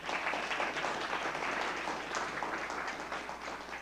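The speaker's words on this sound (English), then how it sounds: "Please give her a big round of applause" An audience at a health data science lecture gives a big round of applause, a dense, steady wash of many hands clapping at close range that holds for the full few seconds with no voices on top.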